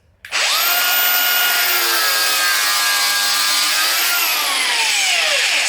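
An angle grinder fitted with a multi-material cutting disc slices through timber molding, giving a loud, steady high-pitched whine and rasp that holds for about five seconds, then the pitch drops as the cut finishes, with no talking.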